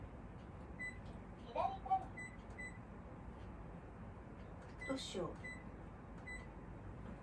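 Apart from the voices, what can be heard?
kitchen timer beeping while being set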